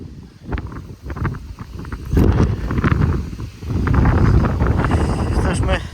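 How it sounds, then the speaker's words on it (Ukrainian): Strong wind gusts buffet the microphone in an open farm field where sunflower stubble is being disked before wheat sowing, loud rushing surges building over the clip while someone talks. "Вітер страшний."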